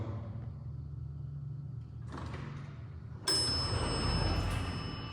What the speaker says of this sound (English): let's see the bell once more.